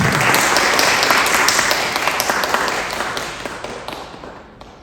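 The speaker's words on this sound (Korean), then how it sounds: "큰 박수로 환영해 주세요." Audience applause welcoming a Microsoft client tech lead to a university career seminar, a dense wash of many hands clapping loudly at first and gradually thinning and fading toward the end.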